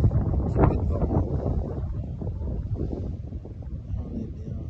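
Light wind buffeting a microphone outdoors beside a car in sunny weather, a steady low rumbling rush that swells slightly at the start and continues evenly throughout.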